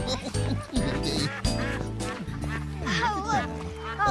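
Ducks quacking at a pond in a children's show, several loud honking quacks in quick, uneven bursts mixed with sung or spoken voices and background music.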